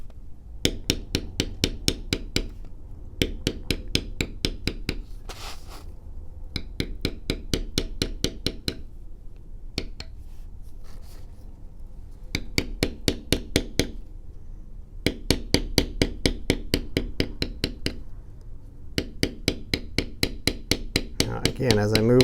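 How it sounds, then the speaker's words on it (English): A beveling tool is struck repeatedly with a mallet while tooling a leather card wallet. The crisp, close taps come in rapid runs separated by brief pauses. "I'm moving that bevel very little to the side each time that I'm hitting down"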